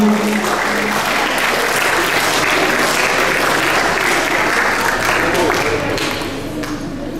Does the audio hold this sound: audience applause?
yes